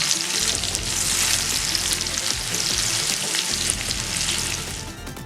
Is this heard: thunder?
no